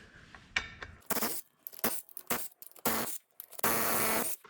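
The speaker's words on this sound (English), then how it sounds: "with a T50 Torx, we just take off the lug bolts here" Lug bolts being removed from a BMW R1200GS motorcycle wheel with a T50 Torx bit: sharp metallic clicks and clinks, then short loud bursts of ratcheting and turning, close up and separated by brief silences.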